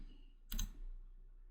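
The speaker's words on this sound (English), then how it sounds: "go ahead and click Next" A single computer mouse click during a Hyper-V installation on a server, one brief, soft, close tap in otherwise near silence.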